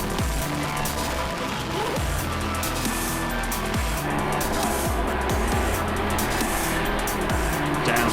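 Porsche GT3 Cup race car lapping Brands Hatch, heard on board in close traffic: a loud, continuous engine howl with rising and falling pitch through gear changes and corners, filling the whole stretch.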